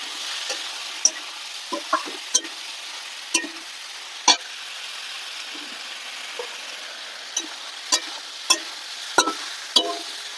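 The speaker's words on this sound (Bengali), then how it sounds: "ভালো করে কষিয়ে নিচ্ছি।" Meat with turmeric, salt and fried potatoes sautéed in a pan, a soft continuous sizzle punctuated by a dozen sharp clinks and scrapes of a spoon stirring at irregular intervals, close by and with no voices.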